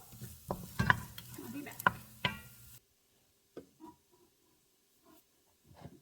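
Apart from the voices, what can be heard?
garlic and onions frying in a pot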